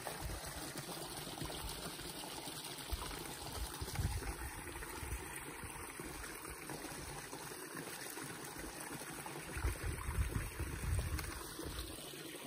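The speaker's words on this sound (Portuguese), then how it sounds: "só escutando o barulhinho da água caindo" Water trickling and falling at a rural country property, a steady soft splashing wash heard from a short distance, continuous and fairly quiet with slight swells.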